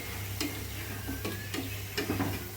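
A Mughlai paratha fries in a pan, giving a soft steady sizzle beneath a low electrical hum, broken by a few light scraping or stirring clicks from a utensil, close and fairly quiet.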